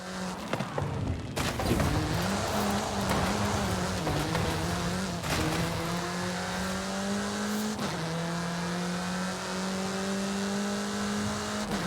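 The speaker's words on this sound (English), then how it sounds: "Get some speed, then turn into the countryside. Really see what this car can do." A car in Forza Horizon 5 accelerates hard, its engine note climbing through several gear shifts with sharp drops between them, loud and continuous over road noise as it speeds toward the countryside.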